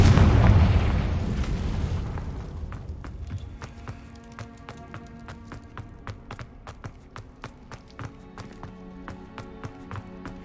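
A Confringo fire spell blasting in Hogwarts Legacy: a loud, deep explosion at the start that rumbles and fades, followed by a long run of sharp, regular ticking crackles.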